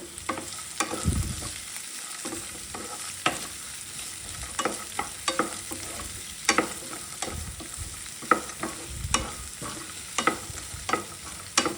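Capsicum curry frying in a pan while being stirred, close sizzling broken by frequent spoon scrapes and knocks against the pan in an uneven rhythm, no one speaking.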